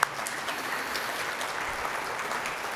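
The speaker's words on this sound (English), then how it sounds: "yes, we can clap" Audience applause at a high school graduation ceremony, a steady even patter of many hands clapping, moderately distant and continuous throughout.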